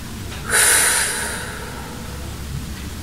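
A single sharp exhale through the nose or mouth during an evening yoga session, a brief breathy rush standing out against quiet room noise before fading.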